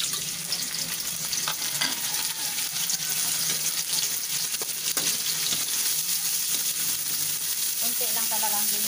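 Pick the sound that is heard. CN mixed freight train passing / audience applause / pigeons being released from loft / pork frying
pork frying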